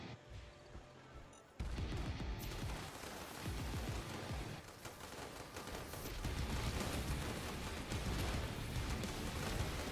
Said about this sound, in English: You're way too much gunfire